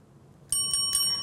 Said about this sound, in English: Ah, you heard the bell